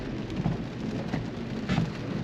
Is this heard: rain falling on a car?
yes